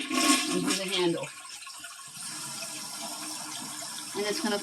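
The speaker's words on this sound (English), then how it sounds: "And it's going to flush." A household toilet flushes at close range with a gurgling rush of water that drains away and gives way to a quieter refill hiss, and a voice speaks briefly over it.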